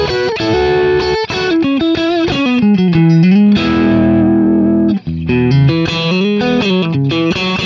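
Distorted electric guitar played through a target amp on an amp-cloning pedalboard, a loud, continuous run of chords and notes with brief gaps, no talking.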